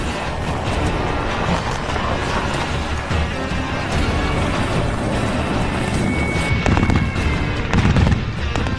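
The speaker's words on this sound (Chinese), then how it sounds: "重机枪手将在新配发的猛式突击车上对固定目标和移动目标进行射击" A heavy machine gun fires from a Mengshi assault vehicle at a military shooting exercise, a dense, loud, sustained rattle of booms and rumble with no pause or talk.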